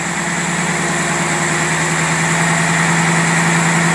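Carbureted motor idling rich with a block fitted, a steady continuous hum with a strong low-pitched drone and even, unchanging level throughout, close and alone.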